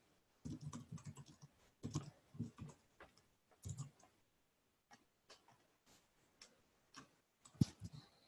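Computer keyboard typing code, a quiet room with scattered clicking keystrokes in short bursts and isolated taps, close and fairly faint, no voices.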